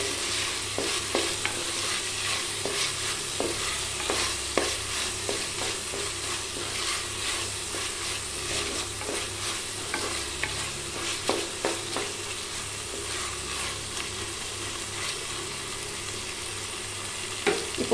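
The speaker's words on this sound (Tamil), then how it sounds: "நல்லா இந்த இஞ்சி பூண்டு பேஸ்ட் வந்து பச்சை வாசனை போகிற வரைக்கும் நல்லா வதங்கட்டும்." Ginger garlic paste sautés in hot oil for chicken varuval, an even frying hiss with repeated spatula scrapes and taps against the pan throughout, no speech.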